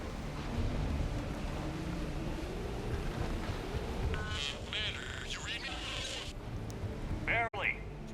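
Stormy wind and rain roar steadily and loudly through a scene in the sci-fi video game Mass Effect 3, with voices and radio-like chatter briefly cutting over the broad, rushing noise.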